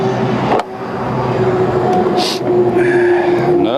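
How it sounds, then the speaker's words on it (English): Loud road traffic roars nearby, with trucks rushing past and a brief tire squeal partway through. "I apologize for all these trucks"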